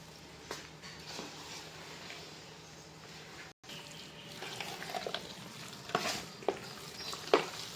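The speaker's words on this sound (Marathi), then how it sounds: "थोडं थोडं पाणी घालत आपण हे मिक्स करून घेऊया." Batter for sandge, a Maharashtrian dried vegetable preparation, is stirred and mixed as water is added bit by bit, giving soft wet swishing with a few sharper knocks of the utensil toward the end, close and fairly quiet.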